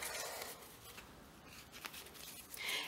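Tarot cards are shuffled by hand, soft papery riffles and rustles with brief flicks, faint and close in a quiet room.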